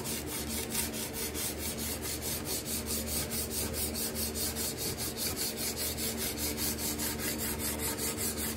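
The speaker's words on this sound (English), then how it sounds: "So that, my friends, is how you scrape a table with a card scraper." Steady rhythmic rasping of a card scraper drawn over and over across a coated wooden gate leg table, close and continuous with even strokes throughout and no talking.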